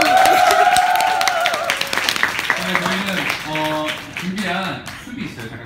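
Studio audience applause at a cooking show featuring mac and cheese, a dense patter of clapping that fades as a voice talks over it.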